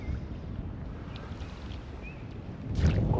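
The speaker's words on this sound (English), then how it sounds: "this wind is just really bad" Strong wind buffeting the microphone while fishing for steelhead from a boat on the water, a continuous loud rumbling roar that swells toward the end, with no talk.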